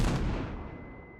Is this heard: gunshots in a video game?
yes